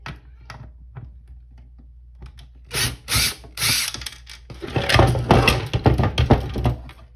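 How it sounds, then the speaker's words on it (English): An impact driver backing screws out of a hoverboard, nearby and loud, with rapid rattling hammering bursts that grow longer and more intense toward the end, broken by short pauses and small clicks. "So I'm going to be getting this impact driver and taking off the screws"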